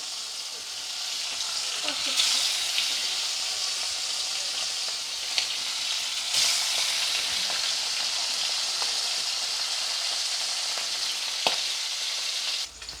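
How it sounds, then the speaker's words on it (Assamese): Fish coated in salt and turmeric sizzles steadily in hot mustard oil in a wok, a loud continuous frying hiss with occasional sharper crackles and pops, no talking. "আৰু বাকী মাছখিনি মই এতিয়া ফ্ৰাই কৰি ল'ম।"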